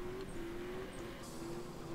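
A drifting car in the Absolute Drift video game hums with a steady engine drone and faint tire noise, quiet and continuous for two seconds.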